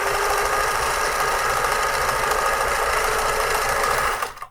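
A Pfaff 360 automatic sewing machine running at speed, a loud continuous mechanical whir and rapid needle chatter held steady for several seconds before winding down and stopping, close up.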